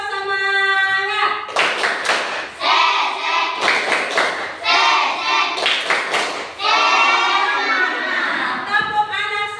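A classroom group, likely children, performs a rhythmic clapping chant, bursts of loud hand claps in patterned runs mixed with chanted voices, close and energetic.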